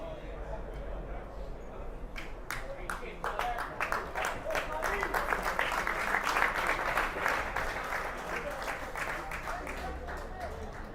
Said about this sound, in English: So the clapping in the stands there was for